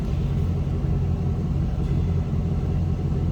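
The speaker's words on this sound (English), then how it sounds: "A little throaty rumble coming out of that 6-liter" A deep, throaty 6-liter engine of a 2005 Chevrolet SSR idles steadily up close, a low, continuous rumble with no voices.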